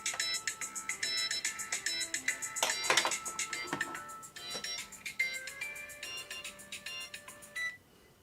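A mobile phone ringtone plays loudly during an Xbox One repair livestream, a bright melodic sequence of electronic notes that repeats for several seconds and then cuts off abruptly, with no talking.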